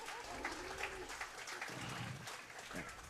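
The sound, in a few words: audience applause at fair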